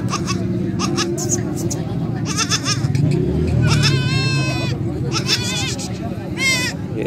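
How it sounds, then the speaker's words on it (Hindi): Goats, including heavy desi does and small kids, bleat repeatedly at a busy Faisalabad livestock market, several wavering calls rising over a constant crowd babble, with someone talking close by throughout. "ज़रा ये छोटी बकरी है।"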